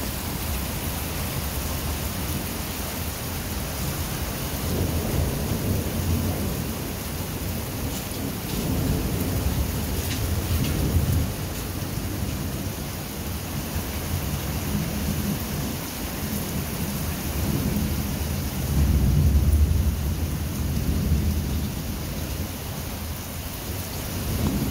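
A night thunderstorm brings steady, heavy rain hissing nonstop while deep thunder rolls and swells several times, with the loudest rumble near the end, and no talk.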